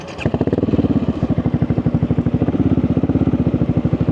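A Yamaha Xmax 250 motorcycle fitted with a smoke muffler exhaust and a dB killer idles close by in a deep, rapid, even burble, with a quick rev at the start.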